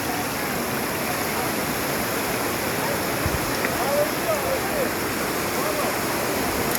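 Water gushes and flows in streams along a rough mountain road near the 40 springs in Munzur, a loud, continuous broadband rush with no pauses, heard close and steady throughout.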